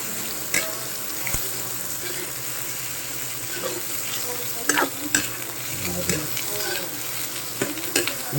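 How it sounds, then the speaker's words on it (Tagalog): Onions sizzle and fry in a pan for a pork steak dish, a steady broadband crackle with occasional louder stirring scrapes and clinks close by, no talking. "Sibuyas natin. Pa-fry na muna natin."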